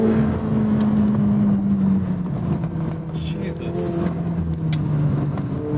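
A 2024 McLaren 750S with an 8,500 rpm redline drives along, its engine droning steadily and loud throughout, with the pitch dipping slightly midway. Someone talks over it.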